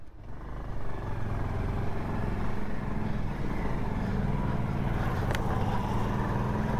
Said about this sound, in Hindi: भाई इस बार बुलेट ने बाजी मार दी, 2 आदमी को लेके चढ़ गई।